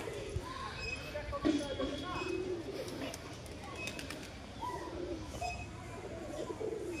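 A pigeon coos faintly in the background around a house, mixed with scattered bird calls, while someone talks over most of it.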